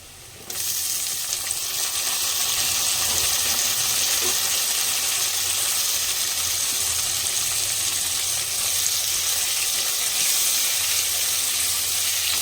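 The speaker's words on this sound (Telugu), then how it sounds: "టమాటాలు కూడా బాగా ఫ్రై చేసుకుందాము" Chopped tomatoes frying in oil in a pan for a village-style Katla fish tamarind curry, giving a steady, close, dense sizzle that continues without break and with no talking.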